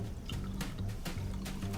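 Sparkling smoky mezcal cocktail poured into a glass, a soft liquid splash and fizz with light rhythmic gurgles, quiet and close.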